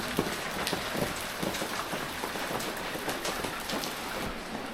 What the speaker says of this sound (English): we've got rain coming in